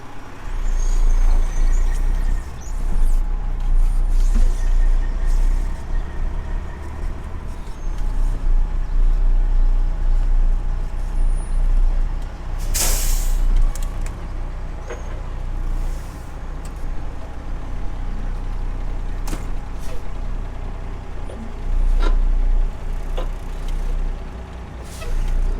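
A truck pulling a trailer rolls up to a barn, its engine rumbling low and steady before a sharp hiss of air brakes bursts out midway, with a few scattered clanks and short releases following.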